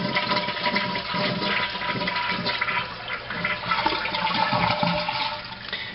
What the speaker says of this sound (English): You just flush the toilet.